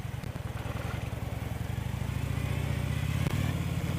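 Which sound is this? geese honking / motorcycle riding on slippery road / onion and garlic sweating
motorcycle riding on slippery road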